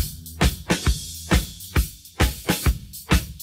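A drum groove from a song with sharp snare hits and washy cymbals, a crash in the first bar giving way to an open hi-hat in the second, played in a steady push-pull rhythm.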